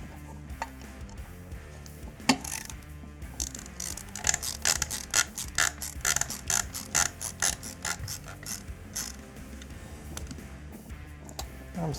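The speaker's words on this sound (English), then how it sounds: "Loosen each one of these screws." Screws on the barrel extension of an FN SCAR rifle are loosened with a tool, giving repeated ratcheting clicks and metallic ticks in irregular bursts, close and moderately loud, with no voices.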